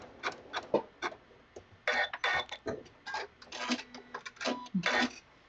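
A Janome MC9450 sewing machine runs a zigzag appliqué stitch in short, irregular bursts of close mechanical whirring and clatter with brief stops between runs, no talk over it.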